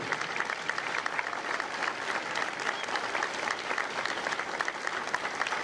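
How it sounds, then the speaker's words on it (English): Sustained applause from a graduation audience at Marine Corps Recruit Depot San Diego honoring veterans, dense even clapping from many hands without a break. "A round of applause for their dedicated service to corps and country."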